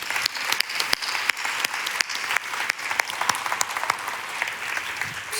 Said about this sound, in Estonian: Kas teeme teile aplausi või ei tee?